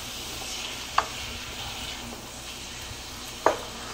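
Steak for cheesesteak eggrolls fries in a pan, a steady close sizzle broken by two sharp clacks of a utensil stirring against the pan, about two and a half seconds apart; no voices.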